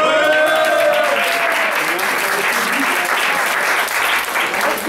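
A Belgian aphorism contest audience breaks into sustained, dense applause, loud and steady throughout, with a faint voice briefly heard over the clapping at the start.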